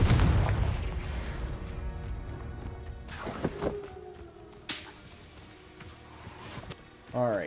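Spell blasts from Confringo in Hogwarts Legacy, a few sharp bursting booms scattered across the clip amid game ambience, with someone talking over them.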